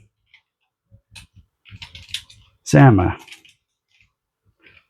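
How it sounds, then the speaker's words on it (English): Sparse clicks of typing on a computer keyboard sound close by in short irregular bursts, with a brief stretch of speech in the middle. "It's hard to type because the tripod's between me and the keyboard."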